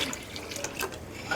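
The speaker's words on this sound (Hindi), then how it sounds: "1 लीटर पानी ऐड कर देंगे इसके अंदर" Roughly a litre of water pours steadily into a cooking pot for degi aloo gosht, a continuous splashing fill heard close by.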